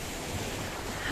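Sea waves lapping against seaweed on a shore in Paphos, Cyprus, a steady soft wash of surf with some wind noise, continuous and moderately quiet, no voices.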